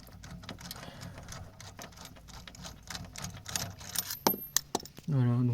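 A socket wrench loosening the torsion bar on a 1998 Peugeot 205, giving quick rattling ratchet clicks and metallic taps up close, ending in a brief louder grinding turn.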